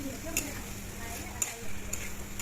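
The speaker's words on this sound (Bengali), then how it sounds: "এখন কেটে রাখা বাইং মাছের চামড়াগুলো দিয়ে দেব, দিয়ে ভালোভাবে কষিয়ে নেব।" Baim eel fish skins fry in a pan of spiced oil, a soft, even sizzle broken by a few crisp scraping strokes of a spatula as they are stirred.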